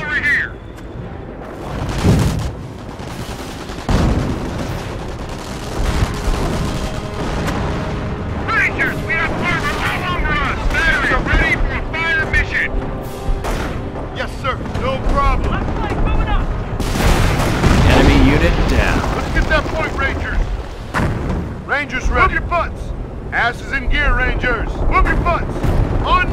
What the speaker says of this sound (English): Field artillery here.